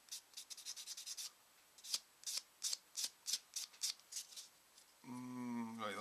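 Hand sanding a plastic part from a Tamiya 1:12 Yamaha RZ250 model kit with 220 grit sandpaper, a run of quick rhythmic scratchy strokes, close and fairly quiet, ending in a brief voice.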